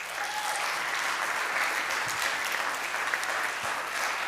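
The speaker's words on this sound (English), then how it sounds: "And now one last round of applause." Steady, continuous applause from a congregation at a Family and Veterans Shabbat service, filling the room evenly for several seconds with no voices standing out.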